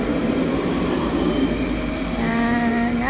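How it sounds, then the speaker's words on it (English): A tram pulling away from a stop on the outer edge of Nice, a continuous loud rolling rumble with a rising electric motor whine toward the end, heard from close by outdoors. "There goes the tram."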